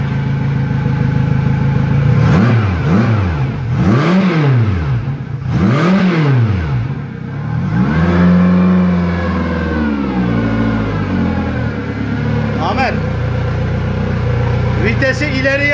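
An outboard boat motor revs up and down several times in surging waves, then settles into a steady rumbling hum, close and loud throughout.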